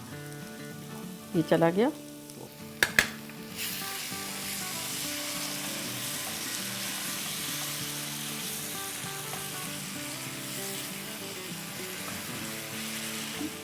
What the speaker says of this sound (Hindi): इस पॉइंट पर तकरीबन हमको भूनते हुए 2 मिनट हो गई है प्याज़ों के और मसालों के साथ।